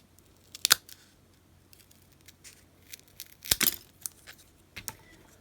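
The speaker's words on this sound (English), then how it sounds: "I'll use this pair of scissors to cut the cardboard" A few sharp snips and crunchy sounds of scissors cutting cardboard, close by, spaced irregularly with quiet gaps between them and no talking.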